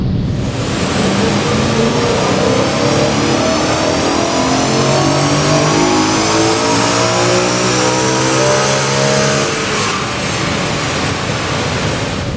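BMW E92 M3 with 152,000 miles on a dyno, the engine revving hard and climbing steadily in pitch through the gears before easing off, loud and close with no talk.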